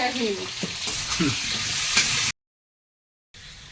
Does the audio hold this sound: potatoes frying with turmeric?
yes